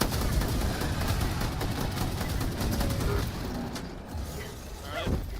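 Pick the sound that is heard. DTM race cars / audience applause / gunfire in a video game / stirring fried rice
gunfire in a video game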